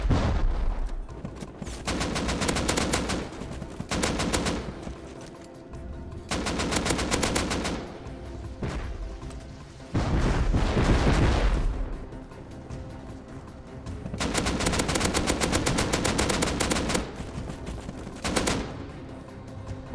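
Rockets fired in the survival game Rust, heavy repeated bursts of blasts and rapid gunfire in loud clusters separated by short pauses, close and dense with no talking.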